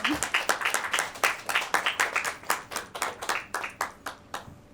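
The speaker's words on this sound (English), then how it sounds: "Let's give another round of applause to our filmmakers" An audience at an indie film screening applauds the filmmakers, a moderate round of distinct, fairly close hand claps with a loose, uneven rhythm that gradually tapers off.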